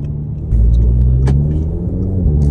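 An Audi S3 engine rumbles from inside the car while driving, a loud, deep, steady drone that swells slightly after a moment, with no talk.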